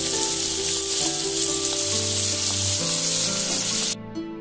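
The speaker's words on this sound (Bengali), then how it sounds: "এবার আমি পটলগুলো ভেজে নেব। পটলগুলো আমি সুন্দর করে লাল লাল করে ভেজে নেব।" Pieces of pointed gourd (potol) sizzle steadily in hot oil, being fried until reddish, a loud continuous crackle that cuts off near the end.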